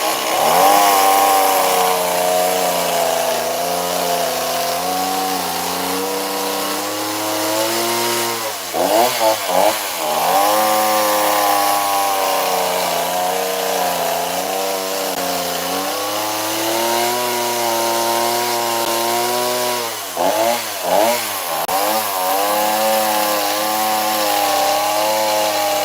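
A chainsaw carving a wooden bear runs loud and close, holding a steady high whine that wavers as it bites into the wood, dipping briefly twice as the throttle eases before revving back up.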